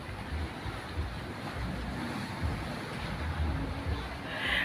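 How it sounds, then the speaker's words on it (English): Waves at Watson Taylor Beach Park in the late evening: a steady, moderately distant wash of surf mixed with wind rumbling across the microphone, with faint voices in the background. "we're at the beach guys"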